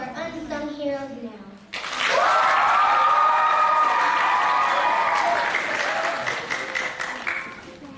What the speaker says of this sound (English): Let's all give a big round of applause to our unsung heroes now.